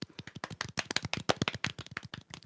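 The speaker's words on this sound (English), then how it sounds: "Little clap here." A quick run of close, dry hand claps repeats rapidly for about two and a half seconds during a gaming news podcast.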